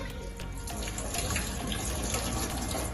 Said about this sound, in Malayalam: ബസ്മതി റൈസ് 2 കപ്പ് എടുത്തിട്ട് വെള്ളത്തിലിട്ടിട്ട് ഒന്ന് കഴുകിയിട്ട് ഒന്ന് സോക്ക് ചെയ്ത് വെക്കുന്നുണ്ട്